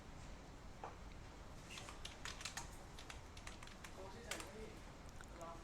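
Fingers tap out a message on a computer keyboard in short, irregular bursts of soft clicks, fairly quiet and close, with a few pauses between runs of keystrokes.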